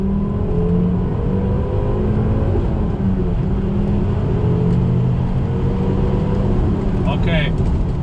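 A Volvo S60R fitted with a do88 intercooler drones loudly and continuously at full throttle from inside the cabin, the engine note holding steady throughout with no break.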